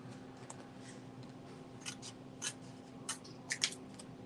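Scissors trim paper for a handmade card in a quiet room, making a handful of short, crisp snips scattered over a few seconds, clustering toward the end, with no talking.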